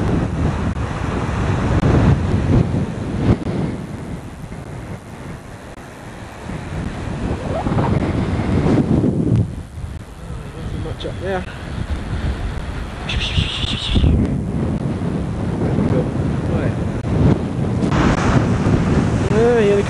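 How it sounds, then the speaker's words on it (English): Strong wind blows by the sea at Aultbea, buffeting the microphone with loud, gusting rumble over the wash of surf, sustained throughout with brief dips and flurries. "We don't mind the wind."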